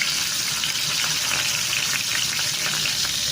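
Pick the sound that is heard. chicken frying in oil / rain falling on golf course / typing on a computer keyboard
chicken frying in oil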